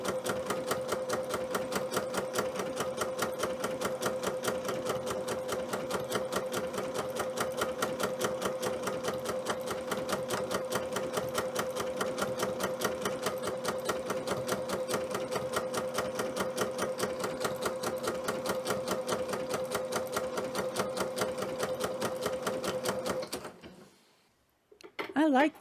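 A sewing machine stitches a closed fly stitch, pattern 701, for wool appliqué, a fast, steady mechanical chatter of needle strokes running for about twenty seconds before stopping abruptly, close and alone.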